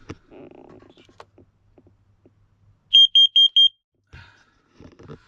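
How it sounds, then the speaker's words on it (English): A carbon monoxide alarm mounted inside a Mitsubishi Delica campervan gives four sharp, loud electronic beeps in quick, even succession, with quiet shuffling and handling noises before and after. "It's also got a carbon monoxide alarm up here as well."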